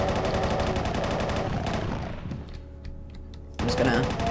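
Chaingunner gunfire in Doom II rattles in fast, repeated shots for about two seconds, then fades to a low rumble before a loud burst returns at the end; someone talks over the action.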